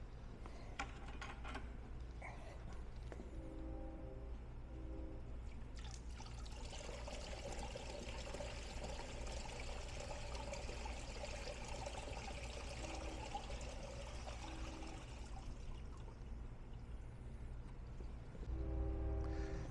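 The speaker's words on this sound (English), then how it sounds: "I take the water from the air conditioner, dump it in this thing" Water drained from an air conditioner is poured into an evaporative cooler in an old foundry warehouse, a faint steady splashing and trickling under a constant low background hum.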